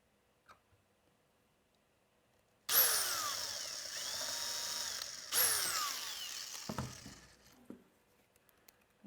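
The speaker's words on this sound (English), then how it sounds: "I am going to now go ahead and drill into this one first" A power drill bores into wood for a bumper, a loud sustained whir lasting a few seconds that briefly drops and restarts, then winds down to light knocks and clicks.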